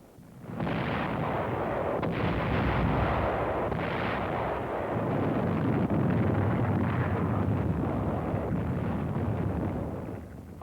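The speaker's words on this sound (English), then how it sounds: "Artillery, supported by tanks, went to work on the enemy's defensive line." Artillery backed by tanks pounds an enemy defensive line on Okinawa in World War II. The result is a continuous heavy rumble of booming fire, dense and distant, with a few stronger thuds rising out of the roar.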